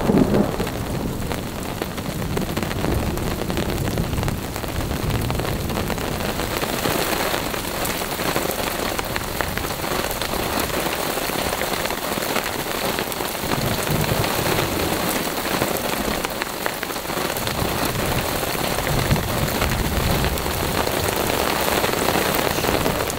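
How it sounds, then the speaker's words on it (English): Heavy rain pours continuously during a mountain storm, a dense, loud hiss of drops drumming on a tarp and the ground, with faint low rumbles underneath. "If not every day, every other day, it rains here."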